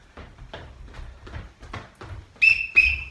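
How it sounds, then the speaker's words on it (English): A referee-style whistle sounds two short, loud, shrill blasts in quick succession as a signal in a children's home sport class, following soft footsteps and movement. "2 whistles. Balancing again."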